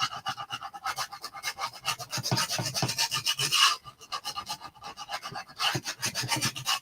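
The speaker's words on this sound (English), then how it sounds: "But you can just scrape part of it off." A hard plastic scraper drags across a chalkboard sign, lifting off dried chalk paste in a steady run of close, raspy scraping strokes with short pauses between passes.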